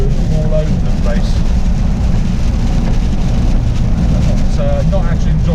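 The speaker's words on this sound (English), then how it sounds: "hear me over the rain on the windscreen and the wind and the engine noise" A 2019 Suzuki Jimny drives through heavy rain, with a loud, constant roar of rain on the windscreen, buffeting wind and engine noise, and a voice faintly audible underneath.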